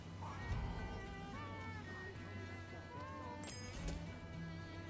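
Cat meowing in the video game Rise of the Ronin, several faint rising and falling meows over quiet game ambience.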